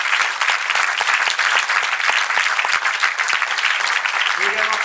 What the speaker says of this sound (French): technique, on peut les applaudir.